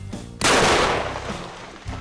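A single loud shotgun blast on a duck hunt by a river, a sharp close report with a decaying tail, preceded and followed by faint background sounds.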